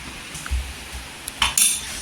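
A metal lid set onto a pan of stuffed brinjal masala cooking on a low gas flame: a couple of quick, light clinks and a short clatter, close by, with no talking.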